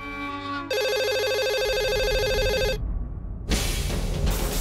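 A telephone rings with a bright electronic ringtone, a loud tonal warbling burst lasting about two seconds, followed by a brief lull and then a wash of broadband noise.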